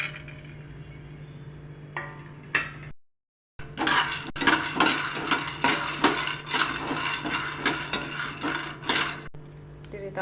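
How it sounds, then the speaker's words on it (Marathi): Peanuts dry roasting in a pan for Tamil Nadu-style lemon rice, a rapid rattling and clinking as the nuts are stirred and tossed against the metal, over a steady low hum, with a short silent gap early on. "शेंगदाणे छान असं भाजून घ्यायचं।"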